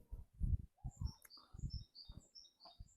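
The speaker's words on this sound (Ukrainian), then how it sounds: "Відчувається спів птахів." Several birds chirp and tweet among trees around a country house near Kyiv, short bright calls repeating at varied pitch, moderately close, over low rustling background noise.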